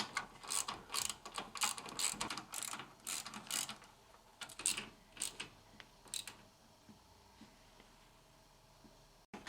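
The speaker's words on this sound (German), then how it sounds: "Dann ziehen wir die Schrauben mal handfest an, dass das Getriebe nicht mehr in den Schrauben wackelt." Steering gear bolts on a Porsche 944 are tightened with a ratchet, heard as close, quick bursts of clicking pawl strokes separated by short pauses, thinning out toward the end.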